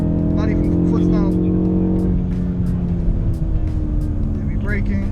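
A BMW M850i xDrive on a race track, its engine a loud steady drone with a shift in pitch partway through, heard close up under continuous talking throughout.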